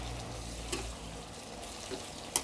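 Chopped pork ribs stir-fried with garlic in a pan until the liquid cooks off, giving a steady close sizzle with occasional sharp scrape or clink sounds from stirring.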